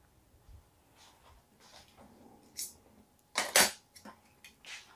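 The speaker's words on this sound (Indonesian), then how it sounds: "Nyuci gelasku." Glasses and dishes being washed in a kitchen, with scattered clinks and clatters of glass and cutlery and a louder burst of clanking near the end, close and otherwise quiet.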